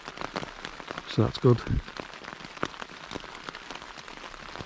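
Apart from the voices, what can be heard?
heavy rain on a tent in the woods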